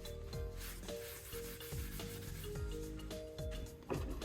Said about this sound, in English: I'm going back over it with the clear wax